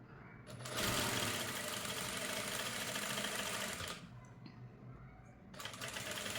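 A sewing machine stitching a cloth blouse dori runs in a steady fast whir for about three seconds, pauses briefly, then starts again, close and fairly loud over a faint background voice.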